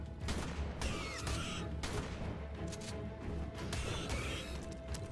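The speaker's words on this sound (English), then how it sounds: "Although I am a terrible shot, and I am missing with a shotgun" A pump-action shotgun fires in the survival game ARK. Several heavy blasts and crashes stand out against a loud, dense, continuous rumble of game noise.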